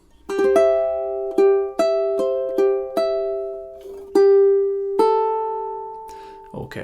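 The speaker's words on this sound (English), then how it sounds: "So on to measures 7 and 8," Fingerstyle ukulele picks out two measures of a relaxing tune, around ten plucked notes ringing in a steady, moderate rhythm, close and clear, with no voice over the playing.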